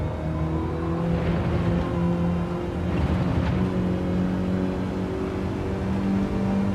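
Race car engine in Gran Turismo 7, droning steadily and loud with a sustained revving whine as it accelerates, heard alone without talk.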